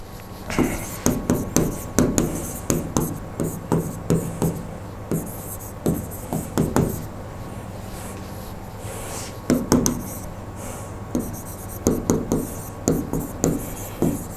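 A teacher writes notes by hand on a board during a Hindi-language lesson, producing a steady run of close, repeated scratchy strokes and taps in short bursts with brief pauses, alone without talk.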